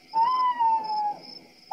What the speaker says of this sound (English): What is that? That's an owl.